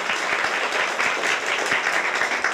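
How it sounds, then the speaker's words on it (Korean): A church congregation applauds steadily, many hands clapping together in a brief, even burst with no one speaking. "박수 한번 드리겠습니다."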